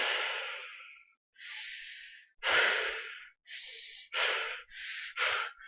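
A voice imitates the Biot breathing pattern with a series of loud, breathy inhalations and exhalations, several quick uneven breaths separated by short pauses, close to the microphone.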